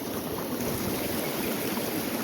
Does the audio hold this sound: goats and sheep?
no